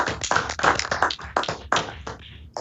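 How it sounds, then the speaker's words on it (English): Applause at a Portsmouth, Virginia city council meeting, with a handful of distinct, fairly close claps in an uneven rhythm rather than a large crowd. "can we give that young man a round of applause?"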